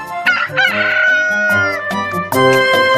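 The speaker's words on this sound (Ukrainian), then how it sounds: "А півник у досвіта встане, всіх піснею збудить" A rooster crows loudly and close, one long drawn-out call with a second crow starting near the end, no voices present.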